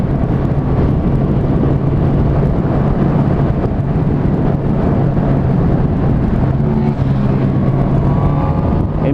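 A Honda CB 1000 R four-cylinder motorcycle rated at 145 hp pulls hard in sixth gear, its loud, continuous engine drone mixed with heavy wind rush, the pitch climbing toward the end.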